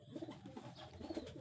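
A racing pigeon coos repeatedly in soft, low, throaty bursts at the loft during a Batangas Port third-lap hard-race derby, with steady outdoor background noise.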